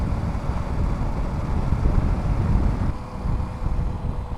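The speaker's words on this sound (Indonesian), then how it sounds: "Jadi anginnya super kencang." Strong wind buffets the microphone in an open area during a motorcycle ride on a KLX 230S, a loud, continuous low roar with no voices.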